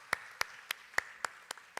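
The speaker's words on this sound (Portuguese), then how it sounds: "Eu quero pedir uma salva de palmas para o Eduardo" Audience applauding for Eduardo at the close of an association panel session, steady sparse claps about every quarter second, fairly faint and distant over a low room hum.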